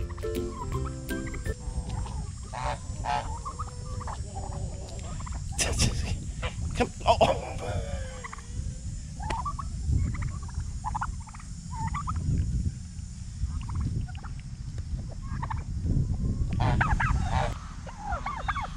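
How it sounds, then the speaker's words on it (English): Chickens in a yard cluck and squawk in scattered bursts close by, while people talk and call out over the birds. "don't go messing with chickens"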